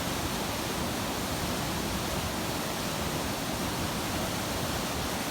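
A mountain river rushes steadily in the Altyn Arashan valley of Kyrgyzstan, giving a constant broadband roar of flowing water, fairly soft and unchanging, with no voices.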